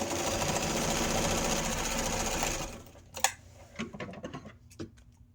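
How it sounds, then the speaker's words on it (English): A sewing machine runs steadily for nearly three seconds, stitching lining pieces of a fabric drawer organizer with a quarter-inch seam, then stops, followed by a few light clicks and handling sounds. "I'm sewing a 1/4 inch seam allowance all the way around."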